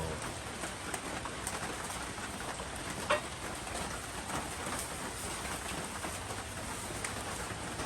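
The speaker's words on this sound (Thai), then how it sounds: "ฝนระรึมฝนระรึมทั้งวันแหละวันนี้" Soft, steady patter of light rain with a faint hiss throughout, a bird calling now and then in the distance.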